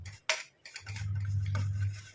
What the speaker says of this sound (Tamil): இந்த மாதிரி மிக்ஸ் பண்ணி விட்டுட்டே இருங்க.